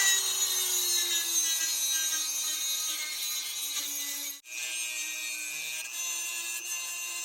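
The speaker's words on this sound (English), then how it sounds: "Now we just have to grind down the inside of this a little bit." A Dremel rotary tool grinds down the inside of a driveshaft part for a Jeep WJ, a steady, loud high-pitched whine that dips and briefly stops midway before resuming.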